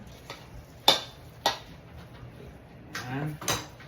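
Meatloaf ingredients, including canned celery, get mixed in a bowl: a few sharp clinks of a utensil against the bowl, then softer scraping and stirring near the end.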